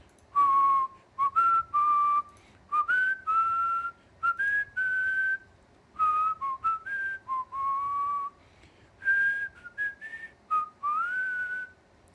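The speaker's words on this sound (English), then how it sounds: "what do you want me to whistle?" Someone whistles a tune close by, a steady melody of clear, separate notes in short phrases broken by brief pauses, continuing for several bars with no talking.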